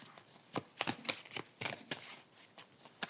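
Tarot cards are handled and shuffled up close, a series of papery slaps, riffles and sliding rustles in uneven bursts, loud and near, with no talking.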